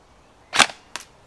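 Airsoft gun firing 0.28g BBs at a target: two sharp, snappy shots about a third of a second apart, the first louder, then quiet.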